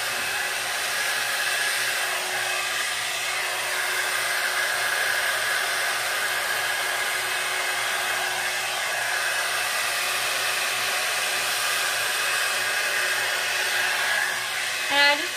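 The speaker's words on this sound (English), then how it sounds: "So it's a dryer and a curler all in one right now." A Conair Primrose 3-in-1 hair dryer curling styler blows steadily at close range, a constant loud whooshing hum that runs unbroken from start to finish.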